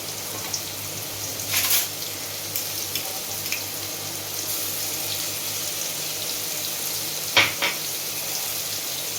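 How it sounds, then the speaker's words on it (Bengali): Potatoes frying in a pan on a gas stove with the flame lowered, with chili paste about to go in for a Bengali vegetarian banana-flower ghonto: a steady close hiss of hot oil with two brief louder sputters, no talk. "এবারে আমি প্রথমে দেবো লঙ্কা বাটা।"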